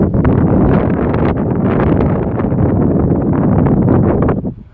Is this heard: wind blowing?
yes